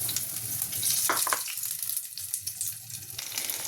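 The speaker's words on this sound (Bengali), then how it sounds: "কি সুন্দর ভাজা হয়ে যাচ্ছে, হালকা আগুনে ভাজছি" Marinated soybean chunks frying in oil in a kadai over a low flame, a steady close sizzle with brief louder crackles as pieces are added.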